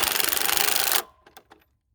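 A Milwaukee Fuel impact wrench runs on its high output setting, hammering loudly and steadily for about a second before cutting off, followed by a few faint clicks.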